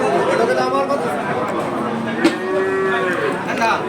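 Bulls lowing at a cattle market, several drawn-out moos rising over a steady murmur of crowd chatter and nearby talk, close and fairly loud.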